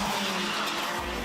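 KZ2 racing karts, 50-horsepower shifter machines on sticky tyres, howl past at Warden Law during a British Kart Championship event. Their loud, continuous engine roar stays close and dense from start to finish.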